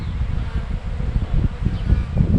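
Honey bees from a colony housed in a tree trunk hum and buzz up close in a steady, low drone with fluctuating intensity, some rustling mixed in.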